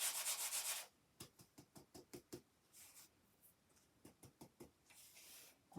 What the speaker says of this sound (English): So the more you burnish it, the better really.